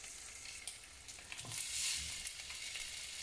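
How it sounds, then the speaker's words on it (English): Cucumber placed in a hot pan to char gives a quiet, steady sizzle with faint crackles and a slight swell midway. "I'm taking my cucumber and I'm just going to place that in the same pan"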